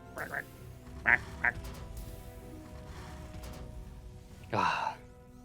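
A duck quacks in a StarCraft 2 tournament broadcast, a few short honking calls followed by a longer, louder quack near the end, set over a steady game background hum.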